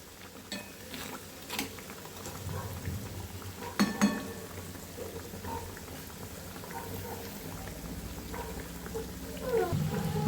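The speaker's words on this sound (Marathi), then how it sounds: "बघू शकताय मी अशा प्रकारे तळून घेत आहे।" Sabudana vada frying in hot oil, a steady bubbling sizzle that runs throughout, with a few sharp clinks of a knife or utensil against the pan.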